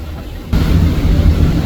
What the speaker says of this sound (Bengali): আজকে 30 মিনিটের জন্য লঞ্চ ভ্রমণ করতেছি